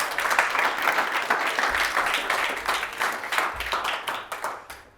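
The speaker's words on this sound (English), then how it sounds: "And an applause." An audience applauds after a talk on entrepreneurship, a continuous wash of many people clapping at moderate volume, fading out toward the end.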